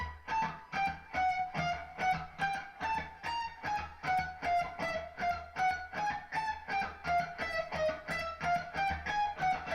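A clean electric guitar plays a fast alternate-picking exercise descending the strings, with a steady, even stream of evenly spaced picked notes and no distortion.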